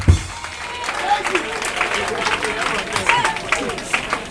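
A church congregation at an evangelical service breaks into applause, a dense crowd clapping that stays steady and moderately loud while voices call out over it.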